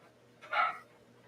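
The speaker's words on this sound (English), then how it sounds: "That damn dog in the back." A small dog in the background lets out a single brief, muffled bark or yip, faint and distant against a quiet room.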